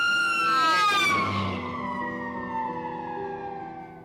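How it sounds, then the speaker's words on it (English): An ambulance siren wails loudly as the vehicle races past, its tone sliding sharply downward in a clear Doppler drop before fading into the distance. "It's similar to the way a siren distorts as an ambulance races past us."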